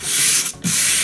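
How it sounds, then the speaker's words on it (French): Wood being rubbed with sandpaper by hand, a steady close scratching that pauses briefly mid-stroke and then resumes, with no talking. "Nous allons ensuite un petit peu le poncer. avec du papier à poncer"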